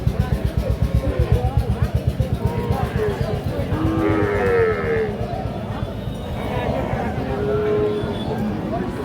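Lowing from a Sahiwal bull calf at a busy cattle market, heard over a throbbing engine at first and a murmur of people talking in the background.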